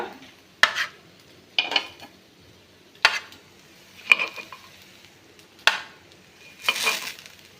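Paddu fry in oil in a pan. Six separate, evenly spaced bursts of sizzling and scraping rise over quiet background hiss.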